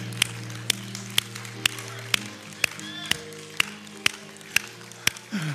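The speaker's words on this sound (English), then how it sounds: "come on, clap your hands again" A church congregation clapping hands in steady unison, about a dozen sharp claps at an even beat over sustained music in the background.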